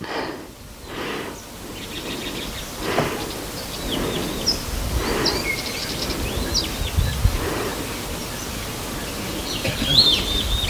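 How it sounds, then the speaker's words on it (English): An unidentified bird gives odd, scattered chirping calls at a distance, faint and intermittent over a soft rustling background during an indoor Pilates class. "Wasn't some kind of weird bird making noises?"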